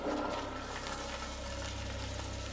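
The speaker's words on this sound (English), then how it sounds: "Why did that toilet flush?" A toilet flushes, a steady, loud rush of water that carries on for the whole stretch with no voices over it.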